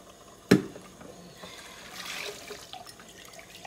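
Hot tap water running over greasy dishes in a kitchen sink, opening with a sharp clatter, then a soft trickle and splash that swells slightly, no talking.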